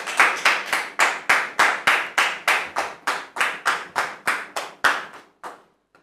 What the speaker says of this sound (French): Merci de recevoir notre visiteur sous vos applaudissements